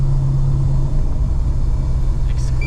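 A Nissan R32 GT-R with a twin-turbo RB26 engine and a misfire drives along a private road, giving a steady, close, low engine rumble with a deep drone throughout.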